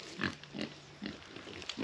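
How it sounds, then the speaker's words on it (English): Older pigs on a farm, recently moved into a barn, grunting in several short bursts at close range, alone, with no voices over them. "And here's our older pigs and Henry."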